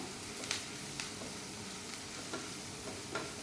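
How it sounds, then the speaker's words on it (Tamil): Onions sautéing in a frying pan for sev kachori masala, a low steady sizzle with a few soft stirring scrapes and taps of a utensil against the pan, no voices. "ஆனியன் இன்னும் கொஞ்சம் நல்லா வதங்கட்டும்."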